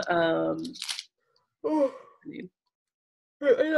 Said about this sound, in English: I can't stop yawning right now